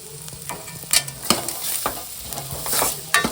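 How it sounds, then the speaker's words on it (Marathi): Vegetables sautéing with salt in a hot pan: a steady sizzle under several sharp scraping strokes of a spoon stirring, close and clear, with no speech. "व्यवस्थित परतून घ्यावं हो"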